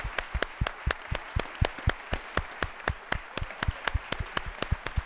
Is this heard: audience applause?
yes